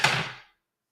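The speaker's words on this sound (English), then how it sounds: "Money sounds like this when you drop it." Coins or money dropped onto a hard surface, a single bright clattering hit that rings briefly and fades out within half a second.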